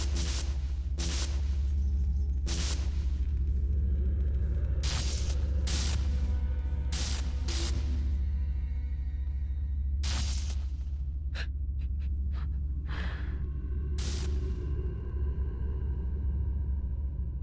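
A low, steady rumble of an anomaly in Metro 2033 Redux drones throughout, overlaid with repeated sharp bursts and crackles scattered across the stretch; no one speaks.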